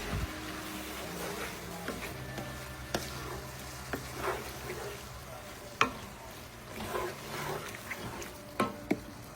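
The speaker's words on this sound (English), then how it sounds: "We'll stir this up." Corned beef hash with potatoes being stirred in a pan, a soft low sizzle under scraping and clattering utensil strokes, with a few louder knocks against the pan.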